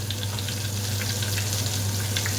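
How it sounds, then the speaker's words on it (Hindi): Mustard seeds crackling in hot oil as a tempering for urad dal, a dense, continuous sizzle with scattered small pops and a low steady hum beneath. "मस्टर्ड सीड भी क्रैकर हो गए।"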